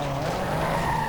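Tires of a Ford Model A skid briefly on pavement: a short, moderately loud squeal over a steady engine drone, close by.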